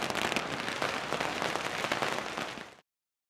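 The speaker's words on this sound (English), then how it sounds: "The celebrations ended with a firework display." A firework display closes a celebration with a dense, continuous barrage of crackling pops and bursts for under three seconds. The sound then stops abruptly, leaving silence.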